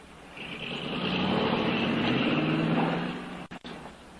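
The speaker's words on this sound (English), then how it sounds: "I think I hear a car coming." A car drawing near on a rural detour road, a broad engine and tyre rumble swelling from faint to steady and loud before breaking off abruptly near the end.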